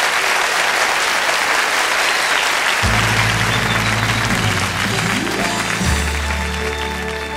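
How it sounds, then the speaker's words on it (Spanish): Studio audience applauding a guest singer on a Chilean variety television show during a tribute, loud sustained clapping throughout, joined partway by low, steady musical tones from the band underneath. "para quien pido un gran aplauso"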